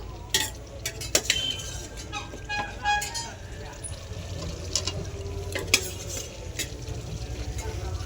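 Boiled potatoes and peas being pressed and stirred with spices in a metal pan, close scraping and clinking of a utensil in irregular strokes over a low steady hum, with someone talking over it.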